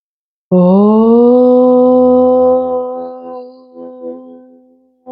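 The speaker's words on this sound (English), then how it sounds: "we're going to chant Om together once to close the practice" A group chants a single long Om to close a yoga practice, a steady low harmonic hum that starts abruptly, holds for several seconds, then thins and fades out near the end.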